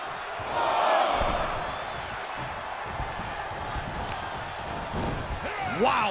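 A loud wrestling arena crowd in the video game WWE 2K24 roars continuously, with a commentator's voice speaking over the din and a few heavy thuds.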